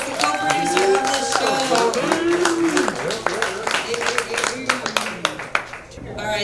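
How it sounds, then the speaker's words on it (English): Audience applause at a live comedy show at Gold Lion in Richmond, Virginia, mixed with cheering voices and steady clapping that thins toward the end. "Everybody give a round of applause to Samantha Lukasiewicz, the co-producer of this"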